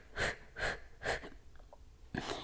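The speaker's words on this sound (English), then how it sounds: "reach forward and exhale through the mouth." Forceful breathy exhalations through the mouth during a fat-burning yoga session, taken with knees bent while reaching forward; three close, rhythmic puffs of breath come in quick succession, then a fourth after a short pause.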